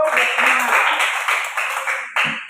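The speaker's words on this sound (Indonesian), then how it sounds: "Tepuk tangan semua dulu" A group claps together during a lesson, a steady burst of close clapping lasting about two seconds, then a brief lull and a short final flurry.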